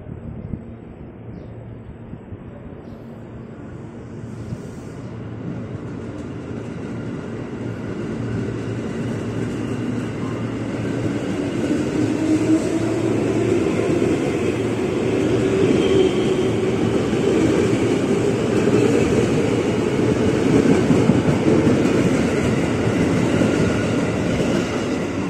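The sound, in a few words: KRL commuter train departing and speeding toward Matraman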